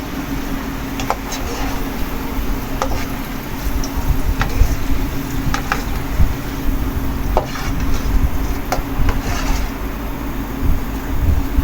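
Potato fries for crispy zinger fries fry in oil and are turned with a spoon, giving a steady loud sizzle broken by scattered sharp scraping clicks that runs throughout.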